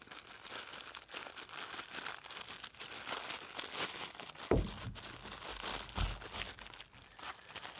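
Faint, close crinkling of a plastic bag as resin-and-wood kindling logs from a campfire kit are handled, with scattered rustles and a couple of sharper crackles.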